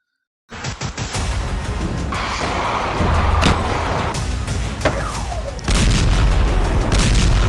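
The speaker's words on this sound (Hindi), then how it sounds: "इतना सारा भयंकर ब्लास्ट चल रहा है इधर ही।" Heavy blasts and booming explosions from war footage in Syria, a dense, continuous roar of loud impacts with sharper cracks cutting through and a fresh surge of rumbling near the end.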